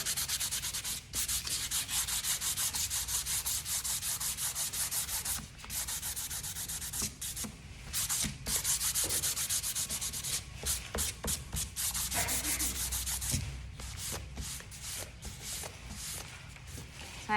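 Sandpaper rubbed by hand over painted wood, steady close scratchy strokes that run continuously, then break into shorter irregular passes near the end, with no voices.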